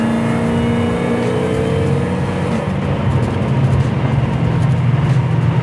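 A 1971 Chevrolet Chevelle rolling over bumps, with a steady, loud road and engine rumble and a low drone that shifts partway through, no voices.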